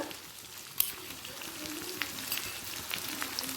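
Onion, garlic, ginger and green chili frying in oil, with the onion browned to a light red, making a steady, soft sizzle scattered with small pops and crackles and no talking.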